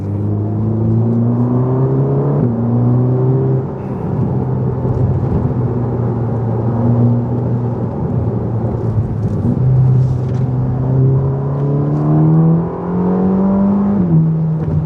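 A Ferrari Roma pulls away in automatic mode in third gear, a loud, close engine drone that climbs and drops repeatedly as the transmission shifts, with no one talking over it.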